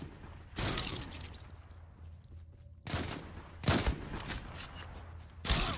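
Sniper rifle fire in the Turkish online shooter Zula, several loud separate gunshot cracks spaced across a few seconds, each with a short echoing tail over a quieter game background.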